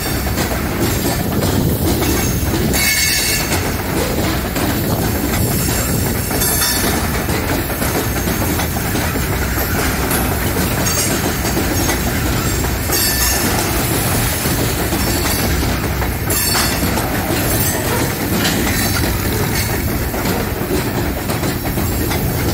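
An NS local freight train switches sand hopper cars, with loud continuous rumbling, clanking, clickety-clack of wheels over rail joints and occasional squeals from steel wheels, heard close up.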